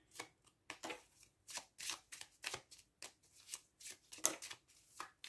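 Tarot cards drawn and handled from a deck during a pick-a-card reading: a run of close, quiet papery snaps and flicks in an uneven rhythm, each short and crisp, with no talking.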